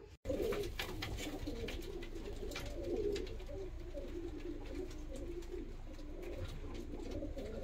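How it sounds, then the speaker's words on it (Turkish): Posta, bango, ornamental and costume pigeons, including a blue-bearded, blue-tailed pair, cooing steadily and close by, with soft overlapping coos running through the whole stretch and no talk. "Kuşlar gayet sağlıklı, at gibi kuşlar."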